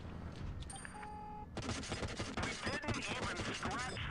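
A T-26 light tank's machine gun in World of Tanks Blitz rattles off a rapid burst of sharp shots after a quieter mechanical stretch, loud and close, with faint talk underneath.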